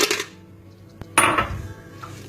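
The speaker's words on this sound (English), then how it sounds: "Let me add some ice cubes," Ice cubes tumble into a blender jar with hard clattering knocks, a burst at the start and a louder rattling spill after a single sharp click, alone without talk.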